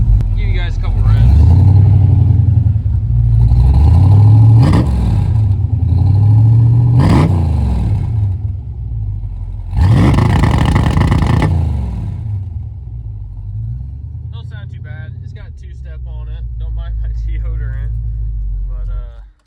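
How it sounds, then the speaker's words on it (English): A 1982 Chevy S10 engine revs hard several times, rising and falling in loud close bursts over a steady idle rumble, then settling back to idle. "I'll give you guys a couple revs."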